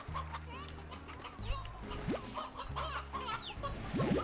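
Video game chickens and a rooster in Slime Rancher clucking and squawking in a busy overlapping chorus, with bright chirpy calls and a few rising squeals scattered throughout.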